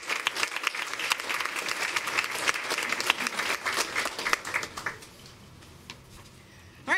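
An audience at a school board of education meeting gives a relay team a loud, dense round of clapping that lasts about five seconds, then drops to quiet room tone.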